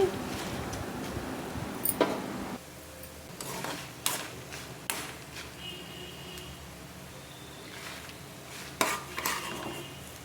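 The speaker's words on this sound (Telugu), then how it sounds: "ఎండుమిర్చి దినుసులు చక్కగా మాడకుండా ఫ్రై చేసుకోవాలండి." Dried red chillies and spices fry in a pan for gongura pickle, with steady close stirring, metal scraping and clinking of a spoon against the pan, plus faint background sizzle.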